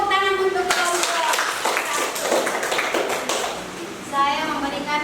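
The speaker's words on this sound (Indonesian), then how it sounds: "Tepuk tangan untuk kelompok." Scattered classroom clapping for a student group after a math presentation in an Indonesian school, uneven taps and claps from several children with chatter mixed in, fairly close and moderate in level.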